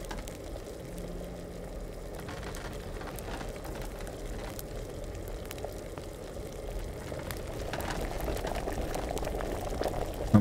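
Liquid bubbles at a steady rolling boil in a still during distilling in the medieval game Kingdom Come: Deliverance, a dense continuous burble that swells slightly louder toward the end, with no voices over it.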